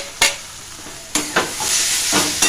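Potatoes and bitter gourd sizzle in a pan as they are stirred and fried, with several sharp spatula scrapes over a continuous close frying hiss.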